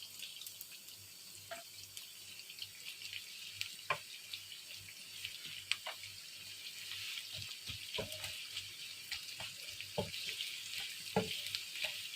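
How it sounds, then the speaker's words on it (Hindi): Chopped onions frying in the hot oil left over from frying okra for bhindi gosht: a steady, close sizzle with scattered sharp crackles and pops throughout, with no voices. "अब इसी ऑयल में हम प्याज फ्राई करेंगे"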